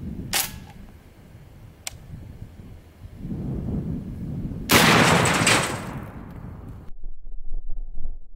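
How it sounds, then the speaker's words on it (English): A shotgun fires a sphericon slug at a cinder block outdoors: a couple of sharp clicks, then one loud, close blast that rings out and fades. "now let's shoot the cinder block."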